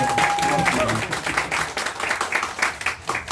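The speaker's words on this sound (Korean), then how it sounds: "따뜻한 박수로 박봉계 의원님 감사한 인사를 드리겠습니다" An audience at a political talk event claps warmly, with dense, rhythmic applause from a crowd throughout and a thin whistling tone at the start.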